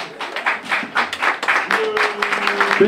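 Audience applause at a hairdressing school graduation ceremony, a lively patter of many hands clapping steadily throughout, fairly close, with a faint sustained tone underneath.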